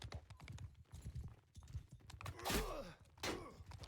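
A horse's hooves clopping in a medieval battle video game, rapid uneven hoof beats mixed with distant clashing noise and two louder swelling bursts later on.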